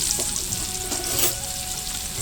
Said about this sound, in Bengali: এবার পেঁয়াজ কুচিয়ে রেখেছি সেই কুচানো পেঁয়াজটাও তেলের উপর দিয়ে দেবো